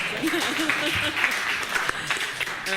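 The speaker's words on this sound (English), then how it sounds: "I think I deserve a round of applause for that." An audience gives a round of applause at an NGO accountability conference talk, a dense patter of clapping throughout with a speaker's voice over it.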